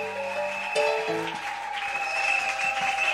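A church congregation applauds steadily during worship, with a sustained organ or keyboard chord and melody carrying on over the clapping, moderately loud throughout.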